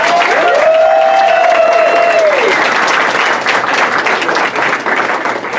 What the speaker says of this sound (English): so let's hear it for Isabella